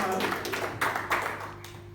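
Applause for a young performer named Haya at a school stage event, a dense wash of many hands clapping at moderate distance, steady for about two seconds with some low hum underneath.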